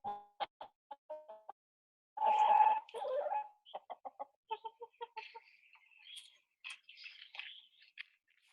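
Chickens cluck in a quick series of short, close clucks, with a louder squawking burst partway through, then scattered higher-pitched chirps and clucks toward the end.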